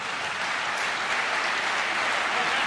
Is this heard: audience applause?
yes